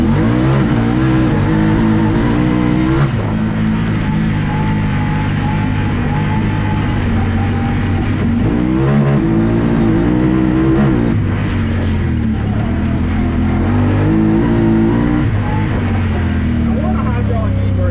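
Honda Talon side-by-side driving a lap on a dirt track, its engine a loud, steady close-up drone with rises in revs, while people talk over the noise.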